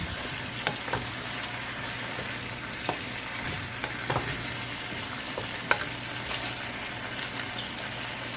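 Adobo chicken wings sizzle steadily in a pan while being stirred, a constant close frying hiss with occasional soft clicks and scrapes of the utensil.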